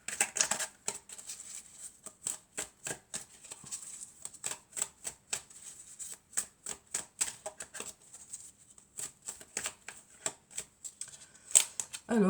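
Oracle cards from a Toi et moi deck are shuffled by hand in quick, papery riffles and slaps, a dense rhythmic run of close flicks with no talking.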